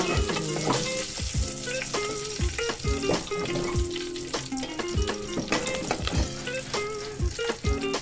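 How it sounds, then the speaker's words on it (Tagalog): Garlic and onion sautéing in a hot pan for a Filipino bas-uy with sotanghon, a steady loud sizzle with stirring clinks and scrapes running throughout, no voices. "Tapos ililisa natin ang ating bawang at sibuyas."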